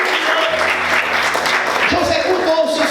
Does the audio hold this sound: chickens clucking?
no